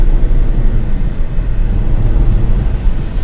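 Bentley Arnage T driving on a hot day with the windows open, a steady low road and engine rumble with wind wash running throughout, fairly loud and unbroken.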